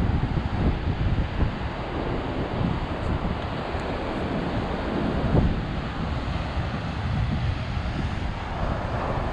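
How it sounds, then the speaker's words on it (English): Small ocean waves wash onto the beach at Vero Beach, a continuous low rumbling surf with soft swells and heavy wind buffeting the microphone, with no voices. "Little waves coming in."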